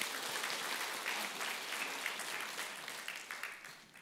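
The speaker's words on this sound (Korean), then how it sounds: "우리 박수 한번 합시다" A church congregation at Yangpyeong-dong Church claps together, a soft, fairly distant wash of applause that holds steady and then thins into scattered claps toward the end.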